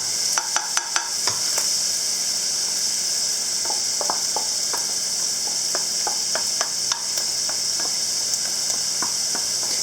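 Onions sautéing in a pan for chili give a loud, steady sizzle close by, broken by irregular clicks and scrapes of stirring, with no talking.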